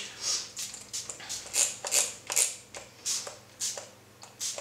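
A series of short, crisp hissing spritzes from a spray bottle of makeup setting spray, about ten quick bursts in an irregular rhythm, close by with no talking.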